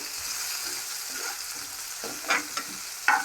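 Frying in hot oil for dhal khichdi, a steady close sizzle with a few sharper stir-scrapes of a spoon in the pan near the end; no voices.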